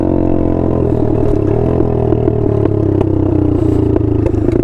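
A small dirt bike engine buzzes steadily and loudly while being ridden, with clattering and a slight rise in pitch as it goes, close to the microphone.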